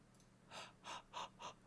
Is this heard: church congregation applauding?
no